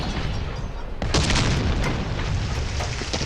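A tank cannon fires in the War Thunder video game: a loud, booming blast erupts after a second of steady rumbling battle noise, then the dense roar carries on.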